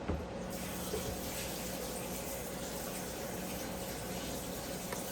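Tap water pouring steadily into a kitchen sink over boiled potatoes to cool them for potato salad, a constant close splashing rush with no talk.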